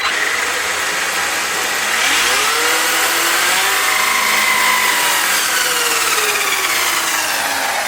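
An electric Tenacity DB Pro RC car motor accelerates with a loud, continuous, rising whine that sweeps upward in pitch and then falls, close by, and no talk.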